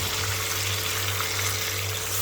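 Water pours steadily into a pan of chicken gravy with stock, a continuous close gushing splash with no pauses.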